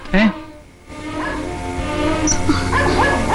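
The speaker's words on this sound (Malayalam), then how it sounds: "പട്ടി വല്ലാതെ കുരയ്ക്കുന്നു." A dog gives one sharp bark, followed by higher yips and whimpers over a steady tonal background.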